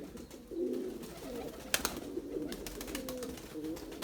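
Pigeons coo close by on an evening in İzmir, soft repeated throaty calls in a low rolling rhythm. A couple of sharp clicks or flaps break in partway through.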